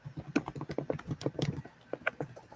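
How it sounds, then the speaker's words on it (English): Rapid, irregular clicking of someone typing on a computer keyboard during a live online call, close and moderately loud, with a steady patter of keystrokes and no voices. "I hear you typing."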